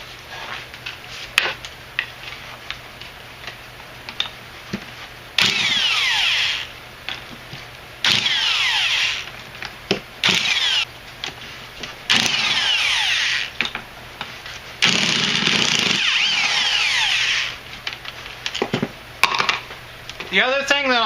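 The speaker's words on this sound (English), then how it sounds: "So at this point we're going to start ratcheting on it and get it broken down." A hand ratchet and power tool work on the bolts of an MTD lawn tractor transaxle, giving several loud bursts of a few seconds each separated by short clicks and quieter pauses, close by in a workshop.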